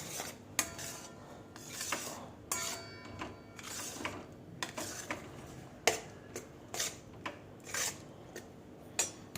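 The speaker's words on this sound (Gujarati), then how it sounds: "હવે આપણે ધીરે ધીરે આપણે ઉમેરતા જશું શિંગદાણાનો ભૂકો અને મિક્સ કરતા જશું" Peanut powder being stirred into a sweet mixture in a pan for shingpaak: quiet scraping and rubbing with sharp metallic clinks of a spoon against the pan, recurring irregularly throughout, close and fairly soft, with no talking.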